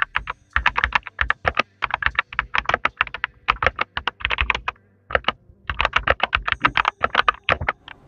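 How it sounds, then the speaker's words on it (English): An RK Royal Kludge RK61 mechanical keyboard with red switches is typed on in quick bursts of crisp, close key clacks, with short pauses between runs of strokes. "we'll go ahead and play the sound test for the keyboard."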